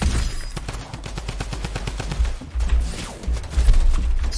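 Gunfire in a Fortnite match rattles in rapid bursts, dense trains of shots with deeper booming thuds mixed in, loud and close throughout.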